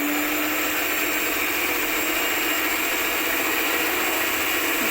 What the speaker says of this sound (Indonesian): Masukkan gula pasirnya ya teman-teman, kemudian nyalakan mixer